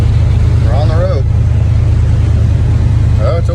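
Constant low engine drone and road rumble from an old Ford truck with worn tires driving down the road, heard from inside the cab, with brief voices talking over it.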